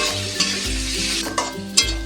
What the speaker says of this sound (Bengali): দিয়ে এবারে ভালো করে আরও একটু হালকা করে ভেজে নেব